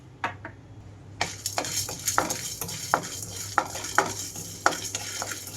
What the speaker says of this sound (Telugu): పాన్ కొద్దిగా హీట్ అవగానే పచ్చిశనగపప్పు అలాగే జీలకర్ర ధనియాలు కూడా వేసేసుకుంటున్నాను